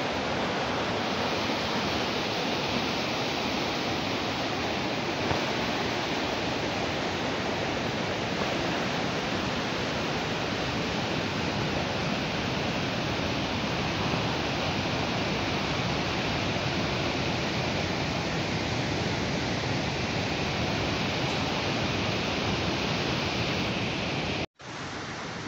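Bhivtas waterfall at Surgana roars as a steady, dense rush of falling water, loud and unbroken for the whole stretch, with a brief dropout just before the end.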